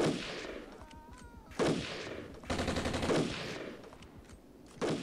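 Bursts of gunfire ring out in the tactical war video game Armored Brigade, several rounds at about 1.6, 2.5 and 4.9 seconds, each sharp crack trailing into a rumbling echo at fairly low level, with no voices.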